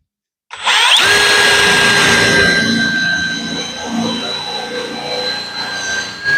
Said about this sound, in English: one more hole to drill.